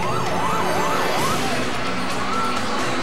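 A wailing ambulance siren rises and falls repeatedly over steady traffic noise, then settles into a longer sustained tone, fairly close and loud.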